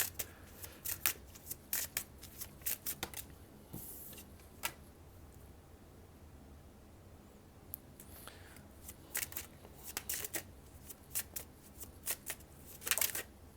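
Tarot cards are shuffled by hand in clusters of crisp riffles and slaps, with quieter gaps between the bursts. The sound is close and faint, and no one speaks.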